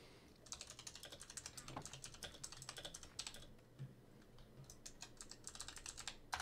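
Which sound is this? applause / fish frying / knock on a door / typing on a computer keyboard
typing on a computer keyboard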